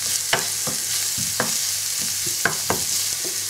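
Chopped onions sweating in a pan for a microwave potato salad, giving a steady soft sizzle broken by several sharp scraping clicks of a spoon or spatula stirring, close and alone with no talk.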